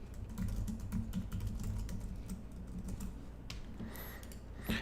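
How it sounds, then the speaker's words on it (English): Rapid, close keystrokes tap on a computer keyboard in quick bursts, then taper off into a quieter stretch with a few scattered clicks. "so I could just type in whatever I like"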